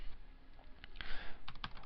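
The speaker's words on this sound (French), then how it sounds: "j'appuie sur le bouton entrée de mon clavier pour ajouter toutes mes idées" Keys clack on a computer keyboard, with a few faint taps and then a firmer press of the Enter key amid quiet typing, close and soft.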